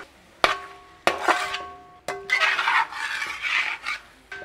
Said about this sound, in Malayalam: കുരുമുളക് പൊടി, അടുത്ത് മസാലപ്പൊടി, ഇനി ഇളക്കാം അല്ലേ.